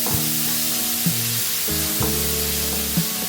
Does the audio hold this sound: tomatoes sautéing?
yes